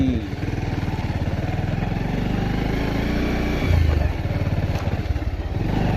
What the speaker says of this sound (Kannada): None of road riding started with my Pulsar 150.